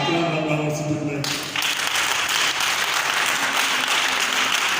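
A church congregation bursts into loud, sustained applause that fills the space for several seconds, preceded briefly by a voice.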